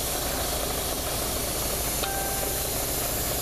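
An airbrush sprays paint across the saucer section of a Revell U.S.S. Voyager starship model, giving a continuous, even hiss held close throughout, with nobody talking.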